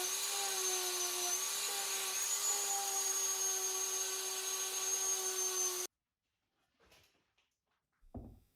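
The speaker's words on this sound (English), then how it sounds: "And more sanding." A power sander whines steadily at close range on a live-edge wooden table leg for several seconds, then cuts off, followed by a few faint knocks and handling sounds.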